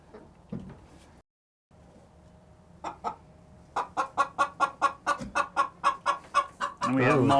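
Chickens of many breeds in a coop give a run of rapid, evenly spaced loud clucks, preceded by a few scattered calls and followed by a burst of busier squawking close by.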